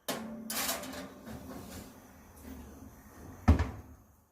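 An oven door is handled while putting chocolate and vanilla muffins in to bake, with a few soft clunks and rattles followed by one sharp, close thud as the door shuts.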